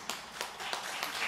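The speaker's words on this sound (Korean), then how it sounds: "박수 칠 일은 아닌데" A church congregation at a Sunday service claps in a few separate, sharp hand claps spaced about a third of a second apart, soft and somewhat distant.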